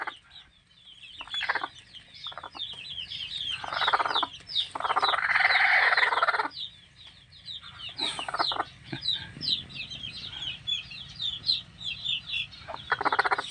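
Newborn chicks peep in high, rapid, chirping bursts at close range, with a hen clucking in louder stretches around them and no talk.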